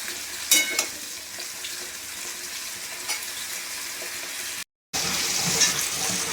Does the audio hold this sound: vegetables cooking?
yes